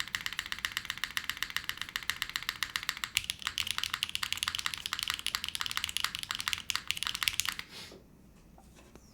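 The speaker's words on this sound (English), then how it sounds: "these switches are definitely amplifying more of like a clacky sound signature" An Ori 88 mechanical keyboard with clacky switches types in fast, dense bursts of sharp clicks for several seconds, then stops abruptly, leaving a quiet room hum.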